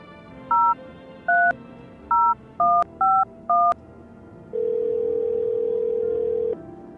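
Telephone keypad dialing in the video game No, I'm Not A Human: six distinct two-tone beeps in an uneven rhythm, then a long steady tone, all clear and close with no talk.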